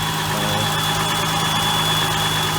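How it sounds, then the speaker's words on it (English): A warmed-up J-Series V6 swapped into a Mazda Miata idles smoothly, a steady mid-low engine hum with a faint thin whistle riding on top, close and constant with no voices. "So the engine's pretty warmed up"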